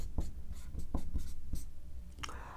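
Handwriting during a class 10 economics lesson: a series of short, scratchy strokes in an uneven rhythm, close and distinct, with a faint steady room hum behind it.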